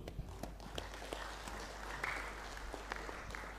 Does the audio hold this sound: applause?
yes